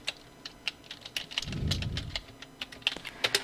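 Computer keyboard keys tapped for Illustrator shortcuts, sharp close clicks in an irregular rhythm, with a brief low rumble partway through and no speech.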